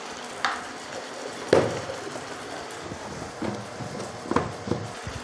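Ground spices, cumin and black pepper, being mixed with yogurt and fish for doi katla, with a few soft knocks of the utensil and quiet scraping, close and sparse.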